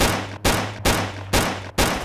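Four loud gunshots from a heavy weapon in the STALKER: Clear Sky mod Ermak: Redemption, each a sharp blast with a short decaying tail, fired at a steady rhythm about every half second, alone without talk.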